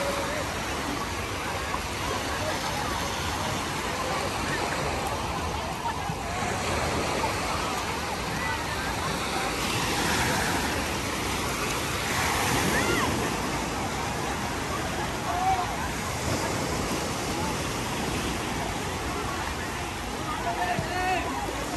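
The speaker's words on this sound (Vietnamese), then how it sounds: "Nước có lên nha mọi người, nước lên mà biển tĩnh mới có động nha mọi người." Sea waves wash in continuously at Vung Tau beach on a rising tide on a calm morning, a steady broad roar of surf with faint voices and beach activity in the background.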